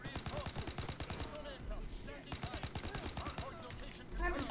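Rapid bursts of automatic machine gun fire in a WW2 shooter game, repeated crackling volleys close up, mixed with other game noise and someone talking over it.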